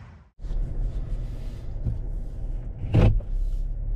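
A 2023 Chevrolet Traverse High Country sets off on a drive, giving a low interior rumble. A brief whirring mechanical sound rises about three seconds in. A short drop near the start breaks the otherwise steady noise.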